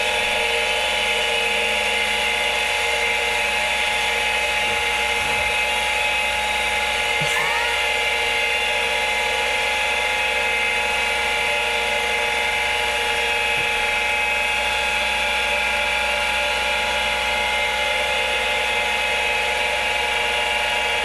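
Vintage Macintosh IIsi computer running with a steady, loud high-pitched whine and drive hum, continuous and unchanging, with a faint brief chirp partway through.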